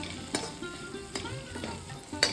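Okra sautéing in a pan over a medium flame, a soft sizzle broken by a few sharp spatula scrapes and taps, quiet and close, with no talking.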